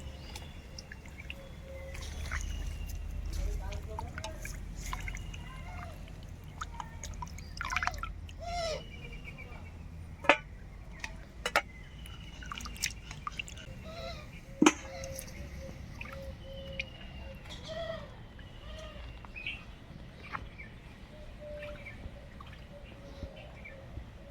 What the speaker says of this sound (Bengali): এবার মাছগুলোকে আমি সুন্দর করে ধুয়ে নেব